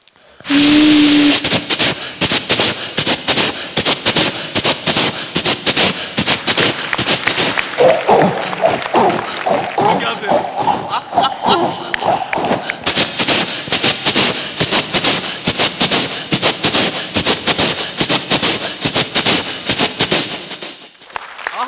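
A long, loud, sustained rushing roar made by a young girl on a festival stage imitating a train passing through a tunnel, steady and noisy for about twenty seconds.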